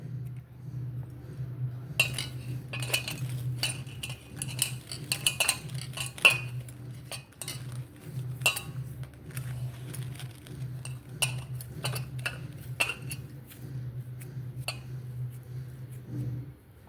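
Sweet potato vada batter mixed by hand in a metal bowl, with steady close clinks and scrapes of utensil against the bowl over a constant low hum, no voices.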